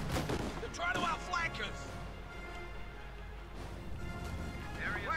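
Gunfire from a Flak half-track in the Company of Heroes 2 battle game, mixed with bursts of shots and booms, runs steadily beneath a commentator talking over the action.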